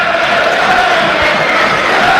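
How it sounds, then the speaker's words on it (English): A stadium crowd at a Coventry versus Southampton football match applauds a Brazilian player leaving on a substitution, a loud, continuous wash of clapping and cheering with no single voice standing out. "that's the applause for the Brazilian"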